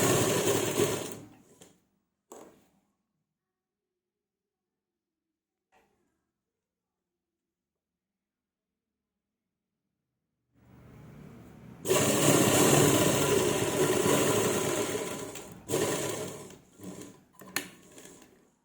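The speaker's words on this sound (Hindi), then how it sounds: "इसमें कच्ची सिलाई लगा लेंगे सेंटर में।" A sewing machine stitches a round neckline for underground piping: a short whirring run at the start, a long pause, then a longer, steady run with brief stops near the end.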